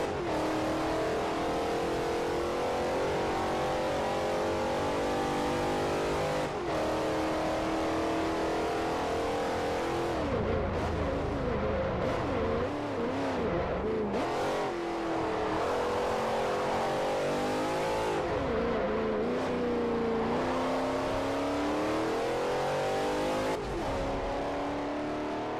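Racing car engines in a Forza Motorsport 4 8-cylinder GT race roar loudly and continuously, revving through gear changes with rising and falling pitch and the occasional tire squeal.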